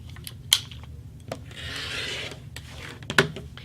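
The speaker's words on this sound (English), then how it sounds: "I'm going to place my ruler on that vertical line, and I'm going to trim off the selvage" Rotary cutter trimming cotton quilting fabric selvage along a ruler, with soft rubbing and scraping strokes, a longer smooth drag in the middle, and a few sharp clicks near the start and end, close and quiet.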